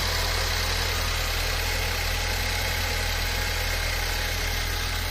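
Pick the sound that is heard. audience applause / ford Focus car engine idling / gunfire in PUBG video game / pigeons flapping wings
ford Focus car engine idling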